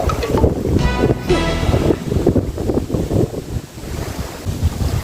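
Rough sea waves and strong wind while fishing from the water, a loud continuous churning wash with repeated surges and buffeting gusts, no talking.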